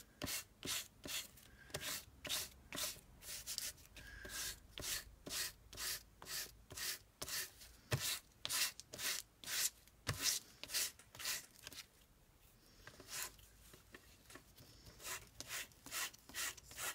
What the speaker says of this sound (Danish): Og lige fil det klamme af her.